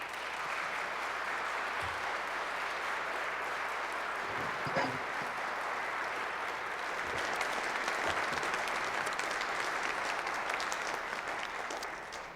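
Church congregation applauding the morning's preachers at a jazz service, a steady, moderately distant wash of clapping lasting throughout, with a few thumps and a brief voice or cheer mixed in.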